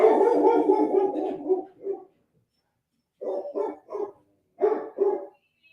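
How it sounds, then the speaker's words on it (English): A Great Pyrenees dog barks alone and close, starting with a sustained rough run of barks, then after a pause giving five more separate deep barks in two short groups. "He likes to bark. That's what Pyrenees do."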